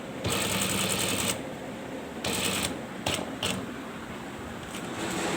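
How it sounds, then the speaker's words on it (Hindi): A sewing machine runs in bursts while stitching a ladies' belt-style shalwar, whirring rapidly in several close runs broken by short pauses, with no talking. "दूसरी सिलाई एक पैर के फासले पर मोटी सिलाई लगानी है और इसको एंड करना है इस प्लेट के ऊपर तक"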